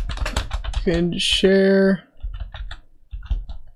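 Rapid keystrokes on a computer keyboard clatter up close while someone runs a web search, the typing mixed with a voice and other audio that speaks over and between the clicks.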